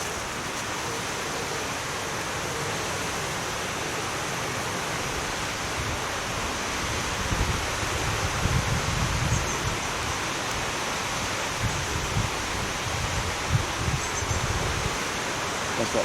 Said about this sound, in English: this gusting wind is messing me around a bit